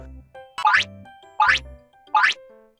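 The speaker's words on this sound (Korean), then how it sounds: "고양이의 머리를 가볍게 통통통통 튀겨주세요" Three springy boing sounds in an even rhythm as a stuffed toy cat is bounced on its head, each a quick rising twang, close and clear with quiet between them.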